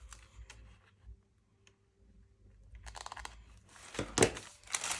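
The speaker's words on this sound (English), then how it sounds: "We have got just a couple of little corners on this one that we can just cut off." Scissors cut small corners off a sheet of tracing paper, giving soft snips and crisp crinkling close by, quiet at first and then a denser rustling burst near the end.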